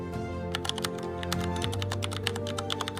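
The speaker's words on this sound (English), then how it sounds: "you then type in this command" A command being typed on a laptop keyboard: quick, light key clicks in an uneven rapid run over a steady background hum, close and without talking.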